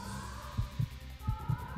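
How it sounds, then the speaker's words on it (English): A heartbeat in the survival-horror game Resident Evil Code: Veronica: low, muffled thumps in two lub-dub pairs, steady and close over a quiet ambient hum. "heartbeat's a good sound"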